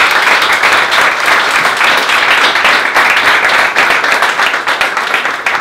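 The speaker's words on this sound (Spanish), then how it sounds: "Un aplauso para Ailén." Steady, loud audience clapping for a woman named Ailén at a talk, continuous and evenly dense throughout the short stretch.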